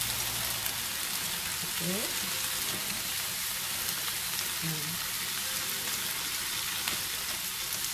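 Tempeh sizzling as it is added to a hot frying pan for tempe orek with green chili, a steady broadband crackle with a brief voice in the background.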